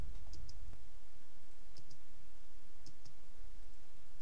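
A computer mouse clicks while working in Inkscape, several sharp, close clicks spaced out, some in quick pairs, over a quiet background.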